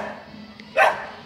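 A single sharp bark from one of several dogs kept outdoors in the sun, fairly close and loud over a low, steady background.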